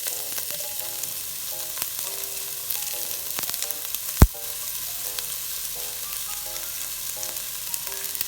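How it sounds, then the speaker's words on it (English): Onion sizzles in homemade coconut oil in a pot for Jamaican pepper shrimp, a steady hiss of frying with faint stirring clicks and one sharp knock midway, no talking. "I'm going to add the onion to the pot to saute up"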